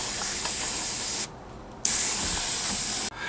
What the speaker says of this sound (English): nice light misty coat, cut to air just to let it dry